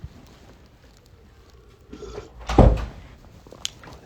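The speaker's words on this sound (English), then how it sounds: "You shut the door?" An indoor door is pushed shut with a single loud thud, preceded by soft rustling movement and followed by faint small knocks in an otherwise quiet room.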